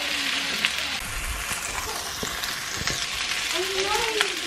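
Onions frying in a pan for a beef birria recipe, a steady close sizzle with some crackle and faint scraping, no talk.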